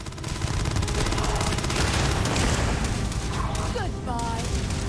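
First-person gunfire combat in Starfield: a continuous, busy burst of rapid shots and impacts mixed with game music and effects, loud and steady throughout.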